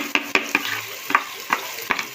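Onions drop into hot oil in a pot and begin frying for shrimp with onions. Sharp crackles and taps from the spoon rise over a close, steady sizzle, with no one speaking.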